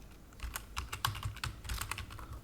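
Rapid, uneven keystrokes on a computer keyboard as a username and password are entered, with clustered taps and short pauses, close and clear with no talking.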